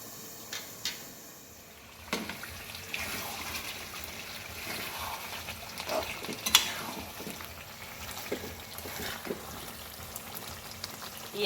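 Chicken curry sautéed in a pan, a low, faint sizzle with intermittent scraping and knocks of a spoon against the pan as it is stirred; no talking.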